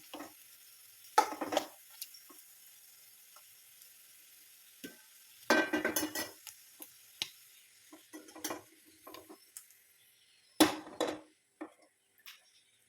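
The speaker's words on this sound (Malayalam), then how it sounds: "സോ ഫ്രൈ ആകുന്നവരെ ഇടയ്ക്കിടയ്ക്ക് ഇങ്ങനെ ഇളക്കി കൊടുക്കുക" Sausage frying in a pan is stirred now and then, giving soft sizzling beneath sharp clinks and scrapes of the spoon against metal that come in irregular bursts between quiet stretches.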